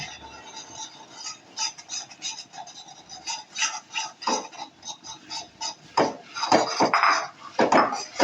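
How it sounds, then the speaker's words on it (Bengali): Rice flour being stirred in a pan for Bengali pitha brings irregular wooden and metal scrapes and knocks, sparse at first and then louder and quicker, close by and with no speech. "এভাবে নাড়তে হবে আর চালের গুঁড়োটা অল্প অল্প করে দিতে হবে"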